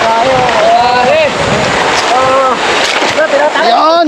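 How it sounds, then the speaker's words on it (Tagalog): Water rushes and splashes loudly as an offroad vehicle fords a flowing stream, a broad turbulent wash that carries on throughout the short moment while excited voices shout over it. "Meron ditong ano eh, magandang agos ng tubig."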